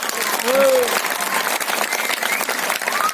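An audience at an Adivasi cultural gathering claps loudly and continuously, with voices and a tonal whoop rising over the steady applause.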